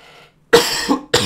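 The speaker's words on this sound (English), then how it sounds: "That was a weird cough right there." A single odd-sounding cough, close and sharp after a brief quiet, followed by a second abrupt burst, heard on a gaming voice chat over a StarCraft 2 match.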